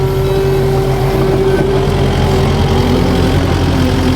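A Kubota compact track loader's engine runs loud and close at a steady throttle, a constant low rumble with a sustained droning tone and no break or voices.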